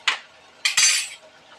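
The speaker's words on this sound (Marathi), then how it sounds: "आता घालायचं पंपकिन सीड्स," Pumpkin seeds tipped into a pan while making methi laddu with ghee: a brief dry rattle, a pause, then a louder, longer scattering rattle close by.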